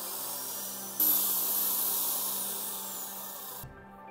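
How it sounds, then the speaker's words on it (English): A drill boring through the center of a PVC pipe cap, a continuous high whine that starts abruptly, holds steady and slowly fades for a few seconds before cutting off. "We'll drill the cap right in the center."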